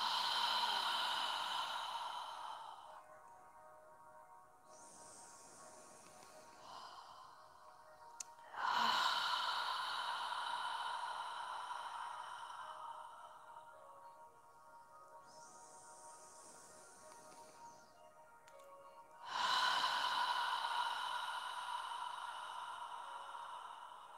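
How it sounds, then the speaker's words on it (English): Slow, deep yoga breathing, long soft inhales and exhales rising and falling in a steady rhythm across several cycles, close and quiet in a still room. "Follow your breathing."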